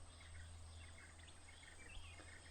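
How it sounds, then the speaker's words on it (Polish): Birds singing in the Mondulkiri jungle of Cambodia, light scattered chirps over a constant insect drone, faint and somewhat distant, with no voices. "Ptaszki śpiewają."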